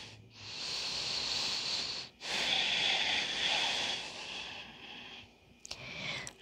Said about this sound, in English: And then you breathe.